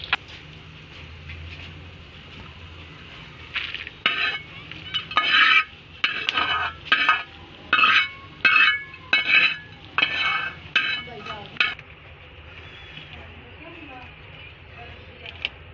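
Nuts (char magaz) and pumpkin seeds frying lightly in ghee for lotus seed kheer, stirred with a spoon that clinks and scrapes against the pan in a run of bursts over a low sizzle.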